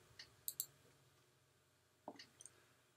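Computer mouse clicks during a software install, a quick double click near the start and another pair of light clicks later, close and crisp over near silence.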